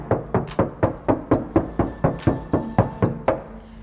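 Knuckles rap on an uninsulated Ford Focus car door, about a dozen sharp, evenly spaced knocks close up with a hollow, slightly ringing body and no voices.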